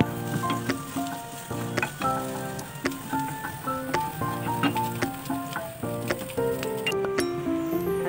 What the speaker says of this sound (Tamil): இப்போ நம்ம பேன் வச்சு அதில் ஆயில் சேர்த்து ஒரு 2 பூண்டு பல்லு சின்ன சின்னதாக கட் பண்ணி ஆட் பண்ணிக்கலாம்